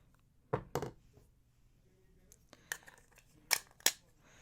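Scissors snipping black Wildfire beading thread, two pairs of crisp close cuts separated by a quiet gap, with faint handling noise in between.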